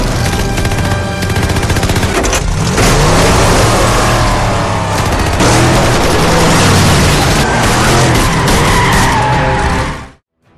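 A truck races away from soldiers who chase and fire on the escapees, a loud, dense engine roar mixed with tyre skids and rapid bursts of gunfire, cutting off abruptly at the end.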